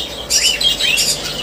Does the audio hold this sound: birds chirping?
yes